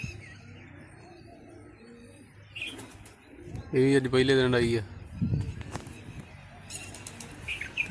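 Newly flown pigeons, a burst of wing flapping and soft cooing rising mid-clip, fairly close, with someone talking before and after.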